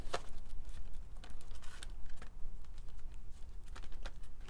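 Tarot cards being shuffled by hand, with soft papery riffles and taps in short irregular bursts, close and fairly quiet with no voices.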